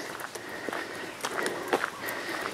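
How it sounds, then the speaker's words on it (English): Footsteps of someone walking outdoors in a quiet rural area of the Philippines, a soft uneven series of steps close by, with faint bird calls and breeze in the background. "I can hear the sound of my own footsteps."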